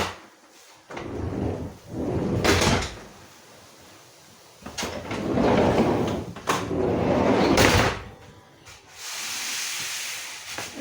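Wooden cabinet door in a camper van build, with shaped and tapered boards, swung open and shut several times; each movement brings a broad creaking, rubbing swish, with pauses between, close and fairly loud.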